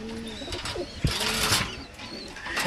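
Pakistani fancy pigeons sitting on eggs coo in soft, repeated throaty calls close by, with light rustling between them.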